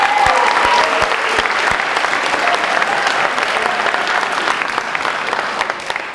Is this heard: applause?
yes